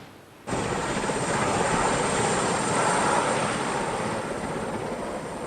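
A loud, steady helicopter engine roar with rotor noise begins abruptly after a brief quiet moment and holds constant.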